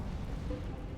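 The Incendio fire spell cast in a Harry Potter video game gives a brief, dense rumbling whoosh, a low roaring burst of flame that fills the whole second at moderate loudness.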